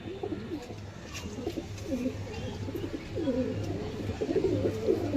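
Pigeons coo in soft, repeated throaty phrases over a low background hum, several birds close by in a continuous, gently pulsing murmur.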